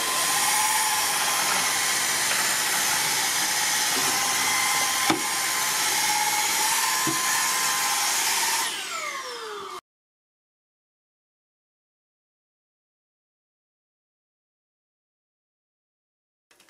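A Redroad V17 cordless vacuum cleaner with hard-floor and carpet brushes runs with a loud, steady high-pitched whine, then winds down and cuts off, leaving silence.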